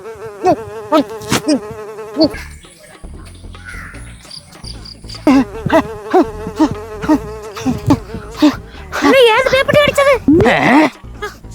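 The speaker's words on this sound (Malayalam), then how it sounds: "ഈ ഈച്ച വലിയ ശല്യായില്ല" A housefly buzzes close by in short, whining bursts, with people talking over it throughout.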